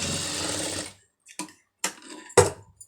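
A sewing machine stitches a folded hem, running in a steady continuous whir before stopping, followed by a few short clicks and knocks of handling.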